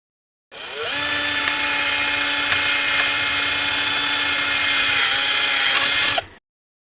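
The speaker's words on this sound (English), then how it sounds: "we're going to drill out a rivet for the gauge face." A small power drill whines steadily while drilling out a rivet on an amp gauge face, starting abruptly, holding one even, close pitch for nearly six seconds, then stopping.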